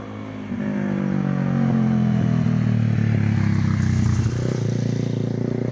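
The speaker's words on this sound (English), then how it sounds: "Someone hasn't got a muffler on his motorbike." A motorbike with no muffler roars past up close, its harsh, loud engine rasping and clattering steadily before the pitch shifts as it goes by.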